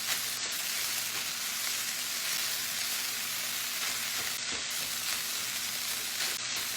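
Chicken fried rice with sesame oil, butter, garlic, salt, pepper and soy sauce frying over high heat, a dense continuous sizzle that stays loud and steady, with no one talking.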